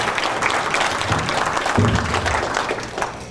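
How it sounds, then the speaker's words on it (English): A warm round of applause from a conference audience, a sustained, even wash of many hands clapping close by, with a brief voice rising in the middle. "Let's give him another warm round of applause."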